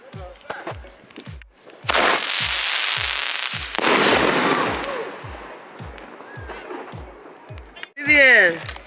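Canada Day fireworks crackle and pop in rapid strings, with loud booming bursts swelling and fading, and a whistling screech near the end.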